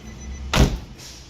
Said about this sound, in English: I'm gonna see if I can close the door.